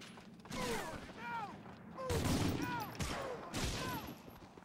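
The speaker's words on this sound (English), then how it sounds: "I don't know where they're shooting." Gunfire in the video game Medal of Honor Frontline: bursts of rapid shots and distant firefight noise, steady and fairly faint, with no talk over them.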